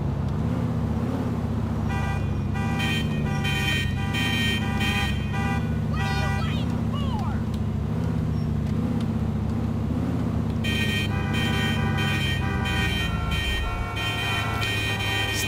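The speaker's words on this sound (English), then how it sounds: "stop honking, Jesus Mother Christ. Holy crap, stop honking" Car horns honking in traffic in GTA 4, long sustained blaring tones over a low engine drone, stopping and restarting in extended bursts.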